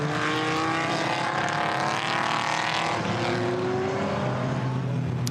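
GT4 race cars, BMW and Mercedes among them, pull away together at Zandvoort to begin a formation lap, their engines making a loud, layered, sustained roar with rising and falling pitch sweeps as they pass.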